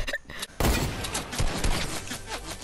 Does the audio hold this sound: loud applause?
no